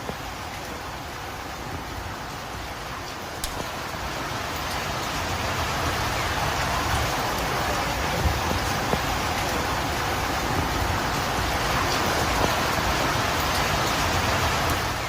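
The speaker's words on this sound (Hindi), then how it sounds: "उत्तर मध्य जापान की यह तस्वीर है जहां पर भारी बारिश और उसके बाद बाढ़ से" Heavy rain falls during flooding in north-central Japan, making a steady broadband hiss that builds slightly and stays dense and continuous throughout, with no voices.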